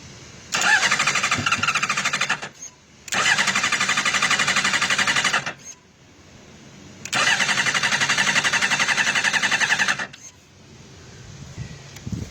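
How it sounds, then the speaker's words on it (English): A Honda CBR motorcycle engine cranks over in three long bursts of rapid, whirring starter churn, each stopping without the engine catching, with short quiet gaps between. "She's just cranking, and that's all it's doing."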